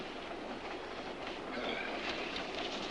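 A moving train rolling along rails, a soft, fairly distant steady rumble and rattle that swells slightly toward the end, with no voices.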